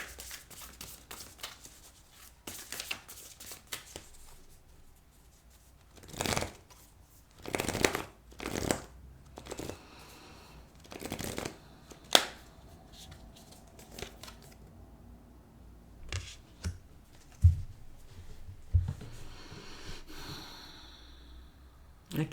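Oracle cards shuffled by hand in a quiet room during a reading, a series of soft riffling bursts and short papery slaps spaced irregularly, some louder than others, with faint breathing in the pauses.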